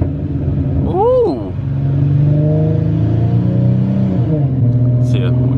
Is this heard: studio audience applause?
no